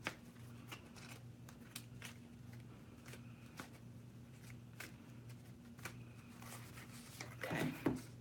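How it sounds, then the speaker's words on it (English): Tarot cards being shuffled by hand at close range: soft, quiet riffling and flicking sounds over a steady low hum, with a brief, busier burst of shuffling near the end. "Let me get one more shuffle."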